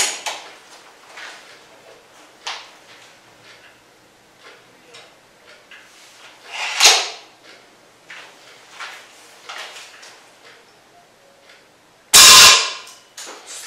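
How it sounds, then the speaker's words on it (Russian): A Crosman Trail NP break-barrel air rifle with a wooden stock is loaded with clicks and mechanical handling sounds, then fired with one sharp, loud crack near the end. Quiet talk runs underneath. "Попробуем сделать еще один выстрел."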